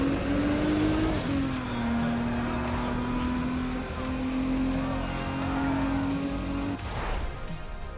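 Car engine in Need for Speed: ProStreet revving with a sensitive throttle, a loud, sustained whine that rises, dips, holds steady, then cuts off sharply near the end before picking up again.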